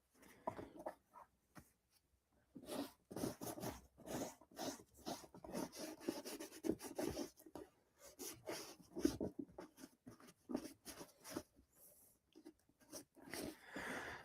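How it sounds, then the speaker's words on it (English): Repeated soft rubbing and scrubbing strokes as a wet paper towel wipes down shoes, faint and close, in uneven bursts with short pauses between passes. "I'm going to get this little rag, this little paper towel wet. And I'm going to wipe these down."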